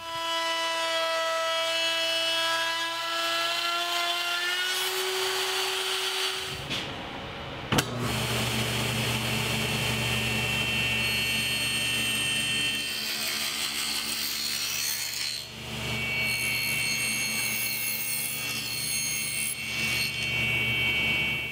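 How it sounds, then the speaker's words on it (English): Table saw cutting a rabbet in a piece of wood molding, a loud continuous whine that changes pitch as the blade bites in, a brief dip near the middle, then steady cutting noise to the end. "And for this, I'll use the table saw."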